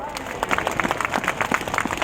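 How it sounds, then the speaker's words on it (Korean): Applause from a congregation at a Sunday joint worship service, rapid claps pattering steadily throughout, moderately loud, with faint voices underneath. "한 번 더 박수"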